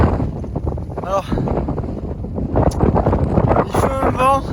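Strong wind buffeting the microphone in heavy low rumbling gusts on the Camino de Santiago, with a person talking over it.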